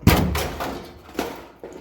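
The old floor pan flange on a 1964 Impala is knocked out with several heavy metallic thumps and bangs, close and loud, spaced unevenly with short ringing decays.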